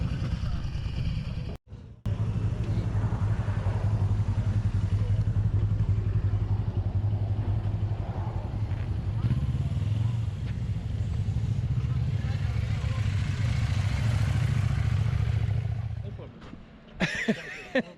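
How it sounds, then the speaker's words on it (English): A two-stroke motorcycle engine idles close by in a steady low drone that fades near the end, with people talking over it outdoors on a cold morning. "Love the sound of the two-stroke."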